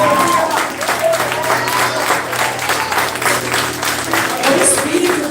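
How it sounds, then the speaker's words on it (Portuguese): Church congregation applauds during a service, a steady crowd clapping that stays fairly loud for several seconds while a voice speaks over it. "Você pode aplaudir Jesus."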